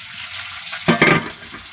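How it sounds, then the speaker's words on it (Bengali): Chopped onions dropped into hot oil already holding cumin seeds and a bay leaf, a quiet pan suddenly bursting into a loud crackling sizzle that settles into steady frying. "এবার দিয়ে দিচ্ছি কেটে রাখা পেঁয়াজগুলো।"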